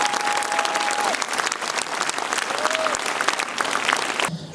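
A theatre audience in Toulouse applauds warmly to welcome director Claude Lelouch at a screening of his film Un+Une, with sustained, dense clapping from a large crowd and a brief high whistle near the start.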